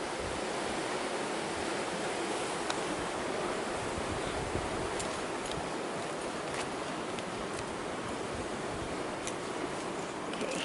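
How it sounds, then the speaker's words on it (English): Steady rushing water flows continuously with broadband wash, a few faint clicks scattered over it, no voices. "You can see the water flowing below."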